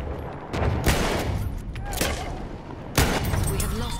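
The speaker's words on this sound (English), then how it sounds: "Enemy machine gun, sighted!" Enemy machine gun fire in a multiplayer war video game crackles in dense, loud bursts, with heavy shots overlapping continuous battlefield noise and a voice calling out over the gunfire.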